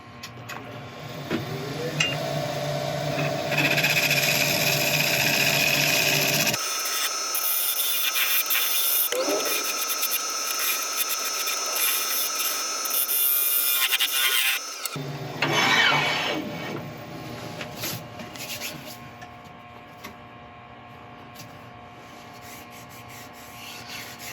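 Continuous harsh scraping and rubbing from a tool cutting an epoxy resin bowl spinning on a wood lathe, steady and close, with a constant motor hum shifting partway through.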